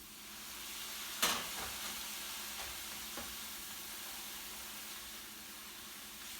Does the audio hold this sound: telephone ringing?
no